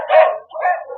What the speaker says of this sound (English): Annoying little barker, but at least nobody's coming up this road that we don't know about.